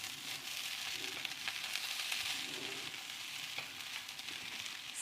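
Fried rice with spring onion turned over in a pan just after the heat is switched off, giving a soft, even sizzle with light stirring scrapes nearby and no voices.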